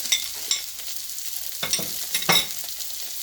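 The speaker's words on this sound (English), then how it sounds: "And just stir fry it nicely." Carrots, French beans and broccoli stems stir-fried in a hot pan, with crisp sizzling and irregular scraping stirs close by.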